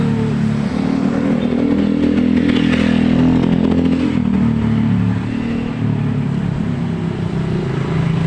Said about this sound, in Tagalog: Ah, ang dami sakyan!